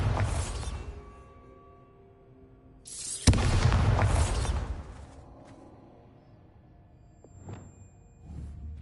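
A Bombarda spell explosion in Hogwarts Legacy: a sharp magical blast with a crackling, rumbling burst that fades, followed by quieter game ambience and a softer whoosh near the end.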